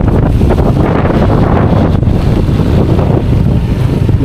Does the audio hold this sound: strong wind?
yes